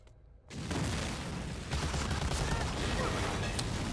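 Explosion and sustained gunfire in Medal of Honor: Allied Assault, a World War II shooter, erupting loudly after a brief quiet moment and continuing as dense, rolling battle noise.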